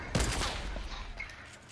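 A drum gun fired at the floor in Fortnite, a loud quick burst of rapid shots at the start that trails off into a fading rumble.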